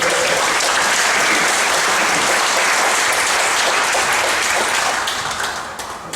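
A church congregation applauds loudly and continuously for several seconds after a choir performance, the clapping thinning out and fading toward the end.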